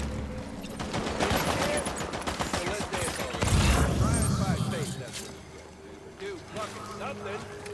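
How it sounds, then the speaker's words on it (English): Enemy gunfire in the video game Death Stranding crackles in rapid bursts through much of the stretch, loud and busy at first and easing toward the end, with a player's voice talking over it. "He just gets to shoot me for free!"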